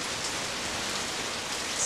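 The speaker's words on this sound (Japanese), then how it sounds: "ずっとこの雨の中。" Steady, close rain falls without a break, a dense even hiss with no voices over it.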